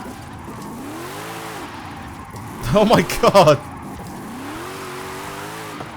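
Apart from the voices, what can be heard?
car drifting with tire squeal in Forza Horizon 5 video game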